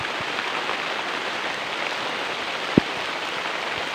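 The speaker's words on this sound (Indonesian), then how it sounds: "Hujan guys" Steady rain falls on an oil palm plantation just after fertilizing, a dense continuous hiss of drops with one sharp close tap near the end and no voices.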